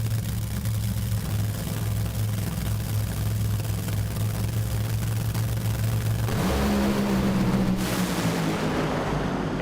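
NHRA drag racing cars at Bristol roar down the strip in a loud, continuous, saturated engine blast whose pitch shifts as they accelerate away near the end.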